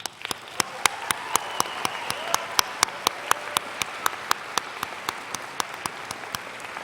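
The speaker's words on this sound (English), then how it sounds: "The clapping never gets old, does it?" Audience applause at a spring nursing symposium and pinning ceremony: a steady bed of crowd clapping punctuated by sharp, evenly spaced loud claps from someone close by, continuing for several seconds.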